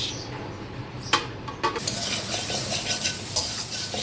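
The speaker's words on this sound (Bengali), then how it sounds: "ছোলা ভুনা করবো তো তার জন্য মশলা কষাইতেছি আলু দিয়ে" Spice paste and potatoes sautéing in a pan for a chickpea curry: a strong, continuous sizzle with a few sharp scraping and clinking strokes.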